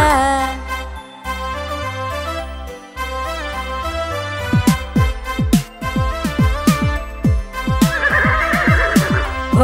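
Playful music from a children's nursery rhyme about a horse plays throughout, and a horse neighs in a bright, shaky whinny near the end, loud and close over the tune.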